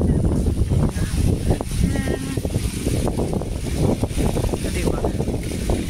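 Strong wind gusts buffet the microphone beside Sampaloc Lake, a loud rumbling roar with constant low turbulence throughout, while someone speaks briefly over it.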